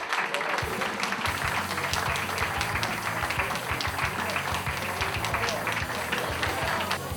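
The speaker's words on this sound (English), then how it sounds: "We all walk in, parents clap." Parents applauding as players walk in to a football team breakfast, steady dense clapping with crowd noise and voices mixed throughout.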